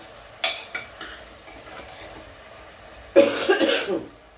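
Two coughs, a short one early and a louder, longer one later, over quiet kitchen stirring and faint sizzling.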